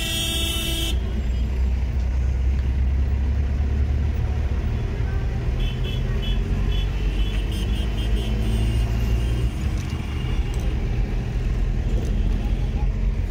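Dense road traffic crossing Howrah Bridge in Kolkata, a steady roar of cars, buses and trucks with scattered horn toots throughout, loud and continuous.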